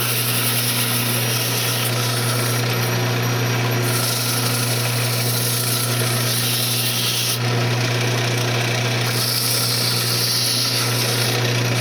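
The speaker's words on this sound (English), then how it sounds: "You want to turn your lathe speed down so you're actually sanding the piece" A steady mechanical hum of a spinning lathe with a continuous abrasive rubbing of sandpaper against a myrtle wood vase, fairly close and unbroken.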